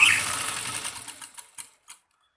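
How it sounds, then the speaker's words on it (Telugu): A sewing machine with a double presser foot stitches thread piping onto fabric in a fast, whirring run. It slows into a few separate clicks, then falls silent. "డబుల్ పాదం మీద మనం కుట్టు వేసుకుంటున్నాను"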